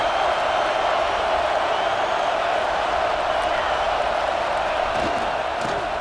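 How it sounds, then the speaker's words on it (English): A stadium crowd in the EA Sports College Football 26 video game roars steadily and loudly throughout, a dense continuous wall of cheering with a few brief spikes near the end. "Listen to this crowd just shaking the girders of this place trying to help their defense."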